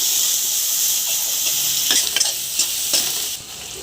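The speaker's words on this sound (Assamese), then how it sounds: "মই বিলাহীখিনি 5 মিনিটৰ কাৰণে লৰাই ল'লোঁ।" Tomatoes with chili powder sizzle in a pan for a taro dish, a dense steady hiss with a few soft scraping stirs near the middle.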